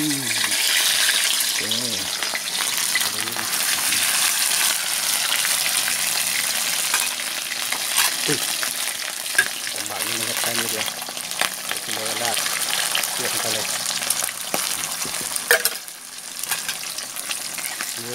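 Pieces of fermented fish (pla som) dropped into hot, reused frying oil, sizzling and crackling loudly and continuously while someone speaks Thai over it.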